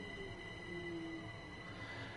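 Train running in Train Sim World 2, a steady rolling rumble with faint wheel squeal and a sustained high whine, continuous and moderately loud with no talk.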